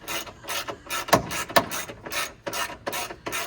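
A ratchet tightening hardware on the driver quarter window of a 1971 Oldsmobile Delta 88 Royale makes a steady run of clicking pawl strokes, rhythmic and close, with a couple of louder clacks midway.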